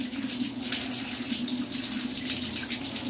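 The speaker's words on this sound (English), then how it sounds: "I have the cold water running. We're going to fill this bowl up." Cold water runs from a kitchen tap into a bowl in a steady, close splashing stream that lasts throughout, with no one speaking.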